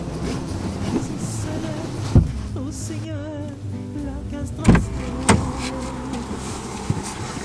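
Electric window motor on a Peugeot 207 car door running as the glass moves, a steady whirring hum with a brief pitch-wavering stretch mid-clip and a few knocks, heard close inside the cabin.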